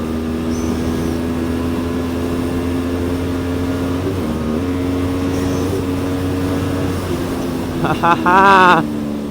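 A QJmotor SRV 600 motorcycle engine hums as a steady, close drone, then gives a short, louder, higher-pitched surge near the end as it accelerates.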